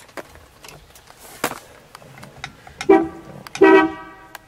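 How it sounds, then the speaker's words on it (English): Horn of a 1950 Buick Roadmaster Convertible sounding twice, two short loud toots close by after some quieter clicks and handling noises. "great sound to the horn"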